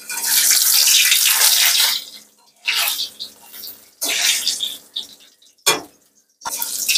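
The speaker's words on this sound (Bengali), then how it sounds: "দাঁড়া, পাঁপড় গুলো ভেজে নি।" Papad hiss and crackle in hot oil in a home kitchen, coming in several loud bursts of sizzling with short quieter gaps between them.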